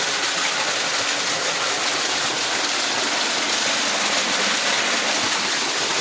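Heavy water gushes steadily from an ACI AGM 6B 2hp irrigation pump outlet, a loud, continuous broadband rush with a faint engine hum beneath and no talk.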